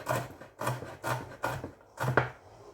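A knife slicing green chillies on a board, five steady evenly spaced cuts, each a short rasping chop, close and clear with no talking.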